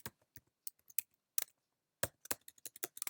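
Text is typed on a computer keyboard in an irregular run of quick, light key clicks with brief pauses between bursts, close by and fairly quiet.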